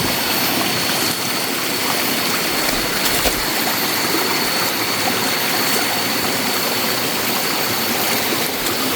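Clear, cold mountain river rushing steadily in a forest, a broad continuous wash of flowing water held at an even, fairly loud level throughout with no voices.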